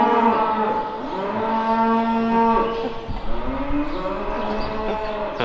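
Angus beef calves on a dairy farm mooing, several long, overlapping calls back and forth, close and loud, no speech.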